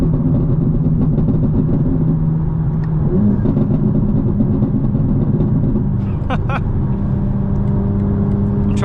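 A tuned 2025 BMW M4 Competition xDrive idles with a deep, steady rumble, and its pitch shifts slightly midway. A couple of short blips come near the end, and the engine sounds close and loud throughout.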